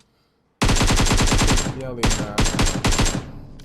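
Automatic AK rifle fire in PUBG, two loud sustained bursts of rapid, evenly spaced shots with a short gap between them, starting after a brief quiet moment.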